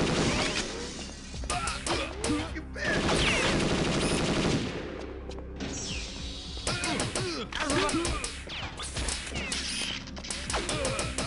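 Sustained automatic gunfire in the video game Perfect Dark, loud rapid bursts mixed with shattering and crashing impacts and mechanical clanks, nearly continuous over several seconds with brief pauses.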